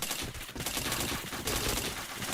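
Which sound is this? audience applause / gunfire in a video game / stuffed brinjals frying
gunfire in a video game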